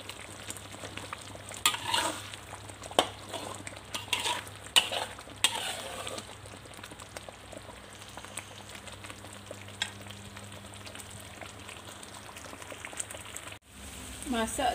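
Lemongrass frying in oil in a pan while cooking sambal udang, a soft continuous sizzle with occasional stirring scrapes and light crackles, fairly quiet and close.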